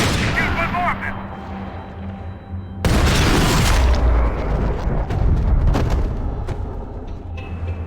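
Heavy gunfire and booming blasts in the video game Max Payne 3, a loud sudden burst of shots that keeps rattling on in dense overlapping bangs, with an earlier stretch of quieter background action before it.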